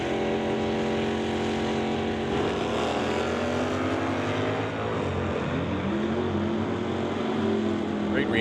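A 1966 Bel Air wagon and a 1988 Mustang launching at a drag strip, a loud sustained engine roar building and rising in pitch over several seconds, heard from trackside.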